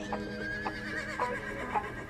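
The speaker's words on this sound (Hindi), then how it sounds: "सिकंदर ने पोरस के पीछे घोड़े दौड़ाए।" Horses neigh faintly in a few short, repeated whinnies over a low rumble, in a chase scene where horses run after a fleeing rider.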